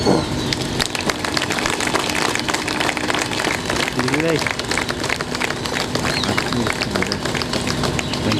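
Crowd applause at a police constable passing-out parade on an outdoor parade ground, dense steady clapping lasting throughout, with a loudspeaker voice announcing award winners over it.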